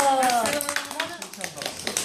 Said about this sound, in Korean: 어, 박수.